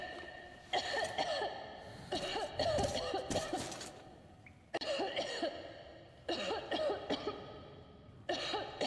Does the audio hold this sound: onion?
no